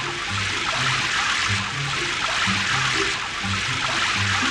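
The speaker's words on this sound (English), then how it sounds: "Spray water first." Cartoon water spraying onto a muddy truck at a repair shop, a continuous loud hiss of spraying water with faint gurgling, steady throughout with no talk.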